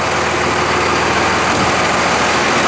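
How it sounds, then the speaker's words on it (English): A 2000 Dodge engine idles steadily at close range, a loud, even low rumble that holds unchanged throughout with no speech over it. "the engine is running"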